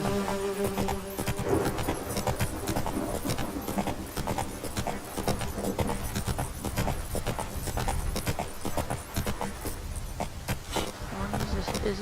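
Hooves of the horse Roach clip-clopping in a steady rhythm in The Witcher game, dense and continuous under ambient game sound, with a voice talking over it.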